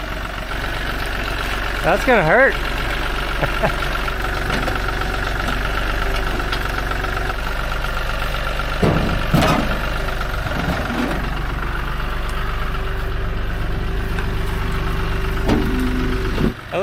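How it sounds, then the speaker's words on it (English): A tractor engine idles steadily nearby at a truck repair, a low continuous rumble with some rattles and metallic clanks, while people talk over it. "He's got a tractor here."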